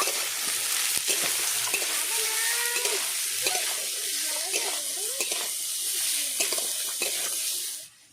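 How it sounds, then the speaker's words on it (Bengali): Carrot and beet pieces frying in a pan give a loud, continuous sizzle, with frequent scraping and clinking stirring strokes throughout before the sizzle cuts off at the very end. "সবজিগুলো হালকা করে ভেজে নিয়েছি।"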